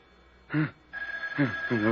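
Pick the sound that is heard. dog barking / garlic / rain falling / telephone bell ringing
telephone bell ringing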